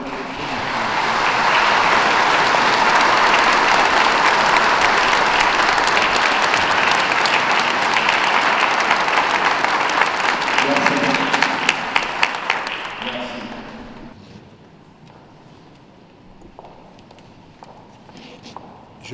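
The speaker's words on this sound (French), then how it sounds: "Nous pouvons aussi applaudir notre frère qui est parti." Church congregation applauding at a memorial celebration of life in Paris, a loud sustained burst of clapping that fills the room for about twelve seconds before fading into quieter room sounds and shuffling.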